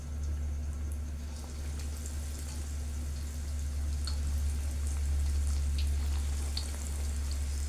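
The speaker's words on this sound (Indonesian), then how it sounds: "Minyak udah panas, kita siap goreng." Chicken sausages frying in hot oil in a wok, a steady, loud, dense sizzle with scattered crackles and pops over a low hum, throughout and without talk.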